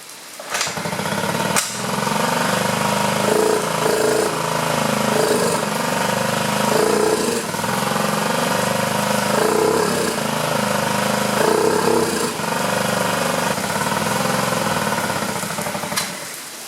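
A scooter engine that will not run properly, with a new carburetor and a freshly cleaned spark plug, runs loud and close for the whole stretch, its steady drone surging and faltering unevenly as if choking.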